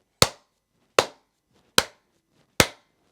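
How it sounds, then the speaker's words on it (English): Four evenly spaced hand claps, each sharp and close with a quick decay, sounding alone against silence at a steady moderate tempo. "A beat of 4 claps."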